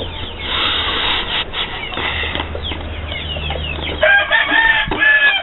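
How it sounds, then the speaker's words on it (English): A long-tailed rooster crows near the end, a loud strained call after a stretch of rustling and low farmyard noise, close by. "Crowing."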